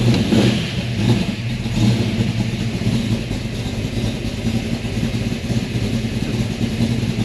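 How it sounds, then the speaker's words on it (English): A car engine idles and runs steadily, a continuous mid-pitched rumble with slight fluctuations, close by and without voices. "this engine runs good"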